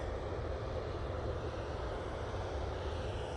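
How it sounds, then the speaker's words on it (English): A Ryanair airliner at Manchester Airport produces a faint, steady, distant engine drone that runs evenly throughout with no voices. "There's Ryanair."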